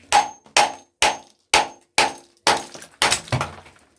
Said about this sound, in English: now I got the hammer. Let's bash things about